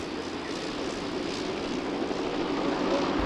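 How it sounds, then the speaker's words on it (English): A 1910 Blériot monoplane powered by a 50 horsepower Gnome Omega rotary engine drones at an airshow, a steady buzzing engine roar heard from some distance, even and continuous, with a low thump at the very end. "this is the 1910 model, and then they re-equipped it with the Gnome Omega, the 50 horsepower rotary engine"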